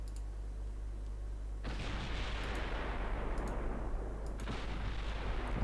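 Naval guns in Ultimate Admiral: Dreadnoughts fire at a transport, two sharp loud blasts a few seconds apart, each followed by a long rumbling decay over a steady low engine hum.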